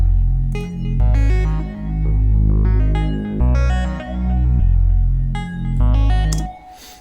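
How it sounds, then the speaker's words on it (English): Synth notes in Bitwig Studio played through a flanged reverb, loud sustained tones in swelling phrases with a sweeping, shimmering tail and no voices. "So you still hear the original sound, but the reverb is flanged"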